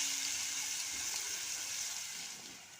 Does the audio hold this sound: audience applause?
no